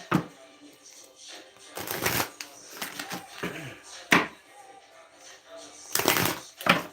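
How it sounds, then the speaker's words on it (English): A deck of cards being shuffled and a card pulled, several quick riffling bursts and flicks separated by brief pauses, close by. "Let me pull a money card for you guys"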